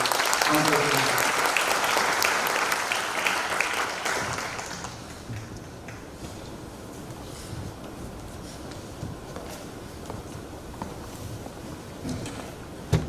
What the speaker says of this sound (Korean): 우리 박수로 한번 감사드립니다.